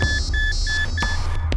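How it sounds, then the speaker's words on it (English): Repeated electronic beeping from a bomb in a box in the video game NIKKE, a steady series of short, evenly spaced high tones over a low hum, with a couple of soft clicks near the end. "There's a red light flashing and a beeping sound coming from the box that Marian is holding"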